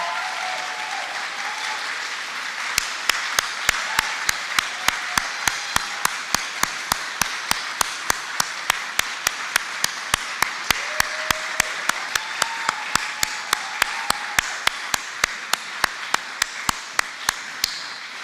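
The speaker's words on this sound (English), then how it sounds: "One final round of applause." Sharp, evenly spaced claps ring out at a steady rhythm over a soft background murmur, like a small audience applauding together at a governor's press briefing at One World Trade Center.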